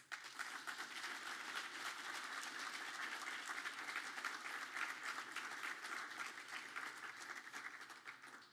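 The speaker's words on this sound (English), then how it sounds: "Can we first take a moment to give a round of applause" Steady, dense applause from an audience at an evening charity event, continuous clapping at even strength throughout before tapering slightly at the end.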